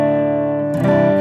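A PRS electric guitar on its Paul Reed Smith 5310 neck pickup sustains a warm, dark chord, then a new strum lands near the end.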